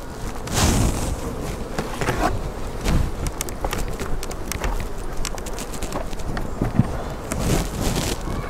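A dense, steady hum of many honeybees buzzing close by in a hive, with scattered knocks and rustles throughout.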